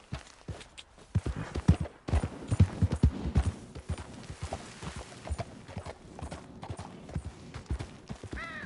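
Horse hooves in the Red Dead video game clip-clop at a steady gallop, close and fairly loud, with a brief whinny near the end and a voice urging the horse on.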